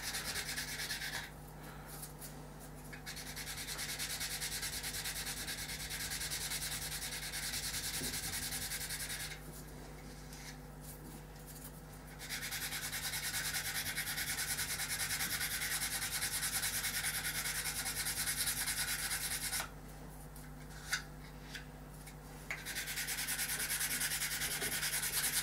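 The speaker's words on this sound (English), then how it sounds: "what I'm going to do is just going to sand off sand that blue back now" A coat of blue paint is sanded back on a plastic part with long, steady abrasive rubbing strokes, close and continuous, broken by a few short pauses, with no one speaking.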